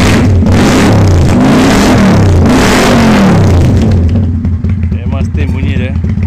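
A Kawasaki Vulcan 800 motorcycle engine revs hard in repeated loud, rising and falling pulls, then settles into a throbbing, lumpy idle, close up and alone.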